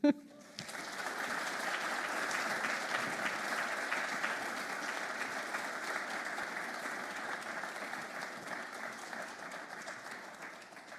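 Audience applause welcoming a lecturer to the stage at the 2025 Lawrence Lecture, a steady, dense clapping from a large crowd that swells quickly and holds for about ten seconds before slowly tapering.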